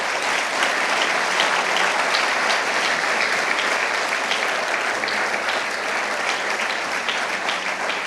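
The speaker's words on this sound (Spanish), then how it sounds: "Dale un fuerte aplauso al Señor." A church congregation applauds loudly for the Lord during a sermon, with dense, steady clapping from many hands sustained evenly for several seconds with no talk over it.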